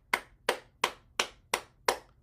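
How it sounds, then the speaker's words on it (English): Six evenly spaced sharp claps, about one every third of a second, as hands clap on the chest to stimulate the heart and lungs during a morning exercise routine; crisp and close with short decays and no voices. "Then we'll stimulate the heart and lungs with clapping"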